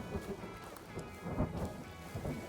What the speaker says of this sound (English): Oh, I didn't know there was lightning.